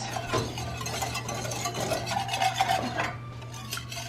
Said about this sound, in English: I'm stirring it for you.